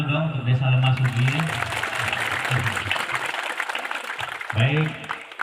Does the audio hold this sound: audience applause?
yes